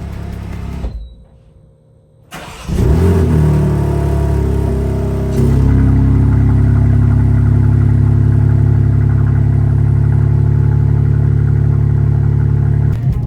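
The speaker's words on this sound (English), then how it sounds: "All right, last cold start on the stock exhaust." A BMW M4 on its stock exhaust cold-starts after a brief quiet moment: the starter catches, the engine flares loudly, then settles into a steady, high cold idle that holds to the end.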